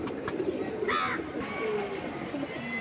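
Pigeons kept for sale, including high-flying breeds, coo softly in a short low burst, with faint chirps and background murmur around them.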